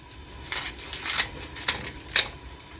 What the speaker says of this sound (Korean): 가위로 이렇게 먹기 좋은 크기로 그냥 이렇게 대충 썰어주세요